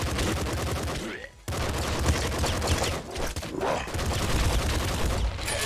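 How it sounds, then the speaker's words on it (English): Rapid SMG fire from the video game Nuclear Throne comes in loud, dense bursts, broken by a brief gap partway through, with crackling impacts layered over game sounds. "Wow, the accuracy on this SMG is bad."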